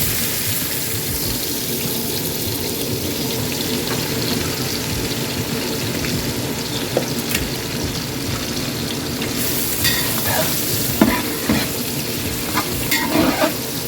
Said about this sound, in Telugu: ఇప్పుడు దీంట్లో నేను ఉల్లిపాయలు వేసుకుంటున్నాను.